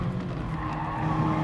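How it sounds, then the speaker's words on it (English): An Audi Gr.4 race car in Gran Turismo Sport brakes hard for a chicane at the Nürburgring GP circuit, giving a steady, loud blend of engine drone and tyre scrub that holds throughout without talk. "So we're getting hard on the brakes"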